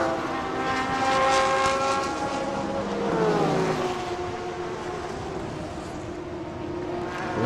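A Lamborghini GT3 race car at a circuit race in Thailand roars past, its engine note rising and then sweeping down in pitch as it goes by, loud and sustained with a steady background din.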